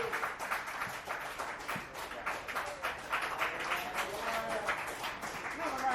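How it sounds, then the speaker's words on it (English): Applause and cheering from a dive bar comedy audience after a comedian's set, scattered claps and whoops from a modest crowd, with a voice talking over it. "Round of applause for Miss Rachel."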